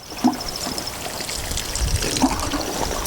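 A passion fruit plant is watered by hand outdoors, giving a soft continuous splash and trickle of water onto soil and foliage, with a couple of louder spatters and no voices.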